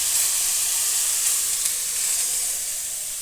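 Hot oil sizzles in a pan, giving an even, continuous hissing fry that stays fairly loud and close, with a faint stir or two.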